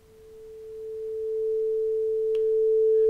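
A steady pure sine tone, held alone and unbroken, playing at a lowered volume that swells gradually louder over the few seconds.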